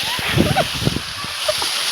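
Water splashes and gushes from a pipe that has come loose at a farm, a steady spray with sloshing bursts, mixed with voices.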